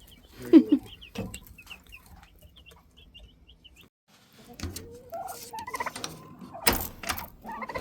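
Young Cornish Cross meat bird chicks in a brooder give a scattering of high, thin peeps and chirps across several seconds, with some low clucking-like calls and handling noises in between.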